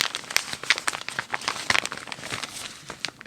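Crinkly, water-damaged pages of a March–April 2024 Reader's Digest, swollen from getting wet in a bathtub, being handled and turned up close: a continuous run of soft rustles broken by sharp, irregular crackles and crunches, with no talking.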